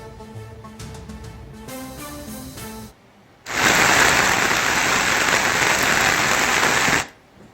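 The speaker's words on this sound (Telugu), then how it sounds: "అతి భారీ వర్షాలు పడుతున్నాయి" Very heavy rain from a cyclonic depression in Srikakulam pours down as a loud, dense, steady roar lasting several seconds, preceded by a few seconds of music.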